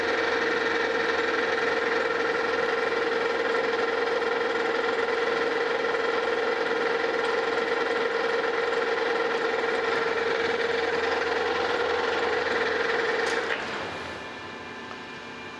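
A metal lathe turns bronze stock for steam engine crosshead shoes, producing a steady close hum with a strong sustained tone for about thirteen seconds, then the cut stops and the machine winds down to a quieter idle.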